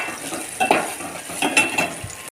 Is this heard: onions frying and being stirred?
yes